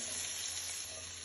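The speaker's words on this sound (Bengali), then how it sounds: "এখন টমেটোটাও আমি ভেজে নেব।" Tomatoes frying in hot oil in a pan, a steady soft sizzle with a faint crackling hiss, close and continuous, with no voices.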